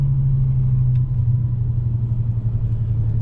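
BMW E60 M5 with its S85 V10 engine on a loud test drive, a deep steady rumble droning close and continuous with a slight lift in pitch, no talk over it.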